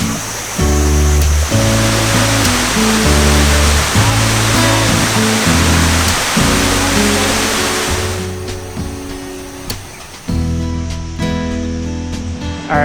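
Layered waterfalls at Kuang Si Falls near Luang Prabang pour in a loud, steady broadband roar, with low tonal music-like sounds layered over the rushing water throughout.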